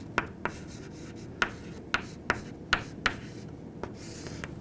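Chalk or marker writing on a board during a biology lesson, a handful of sharp separate taps and short strokes at an irregular rhythm, close and fairly quiet, with no talk.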